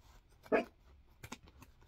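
Scissors snip through hat-making material at close range, one crisp louder cut followed by a few quieter snips and rustles, with no talking.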